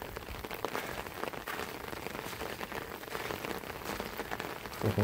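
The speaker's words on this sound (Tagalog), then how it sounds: "Yung tubig ulan." Rainwater runs over a damaged path in a flooded area, making a continuous dense patter and rush that stays steady throughout, with no one speaking.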